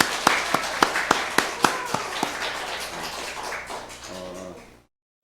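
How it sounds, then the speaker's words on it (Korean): A church congregation applauds a men's vocal ensemble after their hymn, opening with a few sharp, distinct claps that merge into steady, dense applause, which fades and stops abruptly near the end. "찬양을 불러주신 남성 중창단에게 박수 한번 쳐주시죠"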